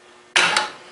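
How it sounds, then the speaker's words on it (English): A wrench loosens a bolt on a Briggs & Stratton Quantum small engine, giving one short, close metallic creak and ratcheting click that fades quickly. "Next I'm going to remove these bolts here."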